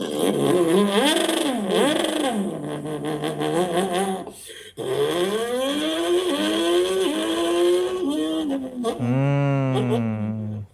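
A voice imitates a superbike motorcycle revving, rising and falling engine-like tones held for several seconds, a brief break, then another long rev ending in a high whining climb, loud and close.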